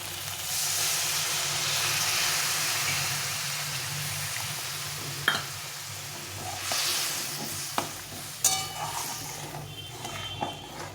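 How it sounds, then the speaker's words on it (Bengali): Hot boiled water poured into sautéed spiced masala in a pan, raising a loud steady sizzling hiss that fades gradually, followed by a few sharp clinks of a utensil against the pan. "এই জল ফুটিয়ে রেখেছি এই গরম জলটা দিয়ে দেবো"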